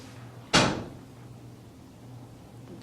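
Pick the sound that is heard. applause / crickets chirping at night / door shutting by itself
door shutting by itself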